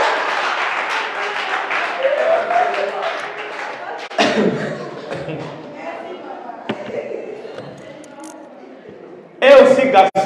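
Church congregation clapping and cheering in acclaim of Jesus during a French-language sermon, a broad wash of applause and voices that fades, with a sharp burst of renewed clapping near the end.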